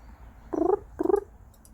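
A chicken makes two short, odd gurgling calls in quick succession, close by and fairly quiet, each a brief throaty burst with a pause between them.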